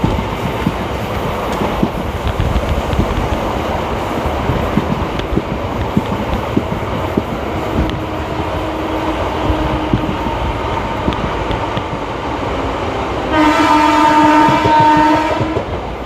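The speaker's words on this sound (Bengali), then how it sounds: "আর এদিক থেকে আসছে ওভারটেক শালিমার ভাঁজপুর ইন্টারসিটি এক্সপ্রেস করবে" The Shalimar Bhanjpur Intercity Express rumbles past with a continuous rolling clatter of wheels on rails, then sounds a loud, sustained horn near the end.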